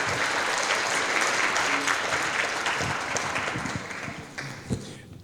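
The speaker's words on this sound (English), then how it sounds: "Please give me a round of applause for State Representative Chris Turner." A crowd applauds steadily at the opening of a Lunar New Year flower market night at Asia Times Square, dense clapping that holds strong and then gradually thins out toward the end.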